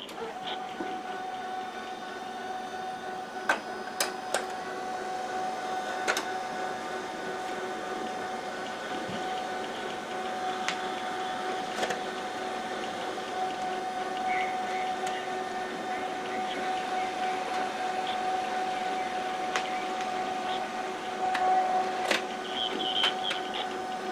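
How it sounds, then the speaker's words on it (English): An HP LaserJet 5P laser printer works through a page with a faint, steady mechanical whir and hum, broken by occasional clicks and clacks of the paper feed and rollers. "This is now being sent to your printer."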